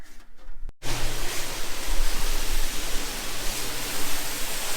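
Water spraying hard onto a car during a wash, a loud, steady hiss of dense spray that starts abruptly after a short pause and holds continuously, close by.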